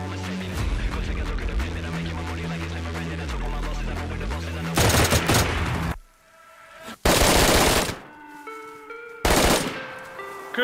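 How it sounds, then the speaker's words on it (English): Bursts of automatic gunfire in the video game DayZ crack loudly in long, dense volleys, separated by gaps where a sustained musical tone rings out, with voices briefly mixed in. "I get ready to get shot at, boys."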